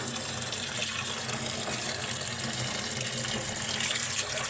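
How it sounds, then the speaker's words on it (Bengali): Leafy greens are rinsed under a running tap, making a continuous, even gush of water splashing into a sink with no voices. "শাকগুলো এখন আমি ভালো করে ধুয়ে নিচ্ছি।"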